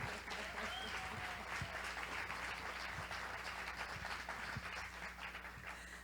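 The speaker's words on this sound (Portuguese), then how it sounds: "Palmas, por favor." A conference audience in São Paulo gives a speaker a steady round of applause, a continuous faint patter of many hands throughout, with a low hum beneath.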